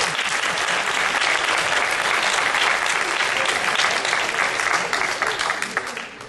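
Loud, sustained applause from a large audience at a stage performance workshop, dense steady clapping that begins to thin slightly toward the end.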